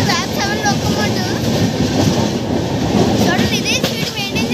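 A passenger train hauled by a WAP-7 electric locomotive runs along the tracks, a loud continuous rumble and rattle of wagons with metallic wheel squeals heard from inside the moving train.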